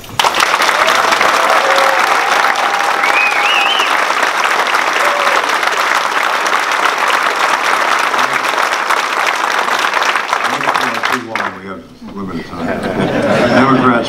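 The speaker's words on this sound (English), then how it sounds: "you can applaud" An audience at a county candidates debate breaks into sustained, loud applause for the Republican and Democratic candidates. The clapping fades briefly and a voice speaks before it resumes.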